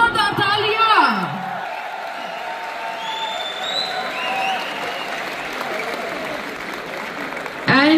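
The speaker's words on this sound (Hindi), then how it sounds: "साथ मिस्टर उमेश पाल सर, जोरदार तालियां।" An audience applauds a guest being welcomed on stage at an event, a loud dense round of clapping that holds steady and fades slightly, with a voice and a brief whoop over the start and a burst of sound at the end.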